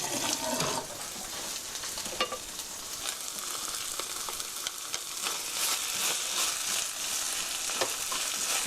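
Tomato ketchup, one to two tablespoons, stir-fried in a pan into a pizza sauce, giving a steady, dense sizzle throughout with occasional scrapes and clicks from stirring.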